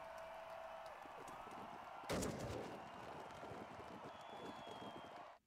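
In a comedy shooter video game, a single sharp gunshot impact cracks out midway through a faint, steady background hum, then fades quickly.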